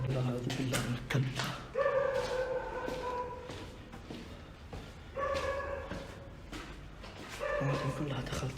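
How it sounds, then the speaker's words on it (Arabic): A dog barks and yelps inside an abandoned palace, with repeated bursts echoing at moderate distance while someone speaks over them. "الكلب قاعد يصرخ من أول في المكان"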